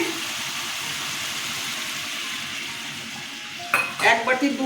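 Chalkumro shukto simmers in a pan with a steady frying hiss, then milk is poured in near the end with a brief splashy burst and bubbling, no talking.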